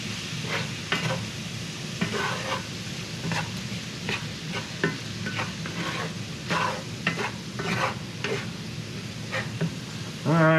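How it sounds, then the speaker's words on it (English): Lightly fried rice, a third of a cup, goes into a hot pan and is stirred, with a steady sizzle beneath repeated scraping strokes of the utensil and a louder burst at the end. "Let's go ahead and add our rice. That is 1/3 cup of rice that we fried just very lightly."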